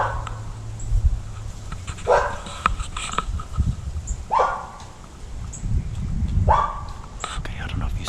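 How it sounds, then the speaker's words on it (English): A dog barks outdoors near a suburban neighborhood, giving about three separate yelps spaced a couple of seconds apart over a low hushed background with soft whispering. "but now there's a dog out."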